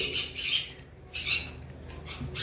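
Pineapple conure parrots squawking in a pair, several harsh, shrill bursts in quick succession with short gaps, close and fairly loud, with no talk over them.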